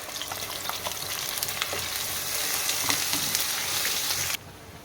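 Onion paste fries in a pan for a Telangana-style gram-flour dumpling curry, with a loud, continuous sizzle and bursts of stirring that cut off abruptly near the end.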